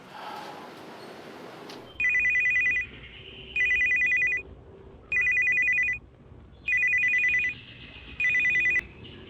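A telephone rings five times in an Indonesian TV drama scene. Each electronic ring lasts under a second, and the rings repeat at even intervals over a steady low background hum.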